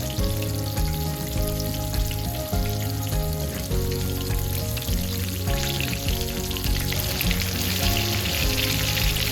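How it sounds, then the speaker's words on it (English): Walleye fillets fry in a hot pan, giving a steady, close crackling sizzle with dense popping that continues unbroken throughout, with no voices. "You can see they're sizzling along very well."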